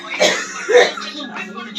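An elderly woman with a severe cough: two or three harsh, close coughs and throat-clearing bursts in quick succession, loud and up front in a quiet room.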